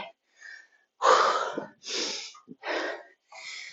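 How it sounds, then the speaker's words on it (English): Heavy exercise breathing during a workout of lunges and crunches: a series of loud, close, breathy exhales and gasps in uneven bursts with short pauses between them. "I'm breathing a little heavier"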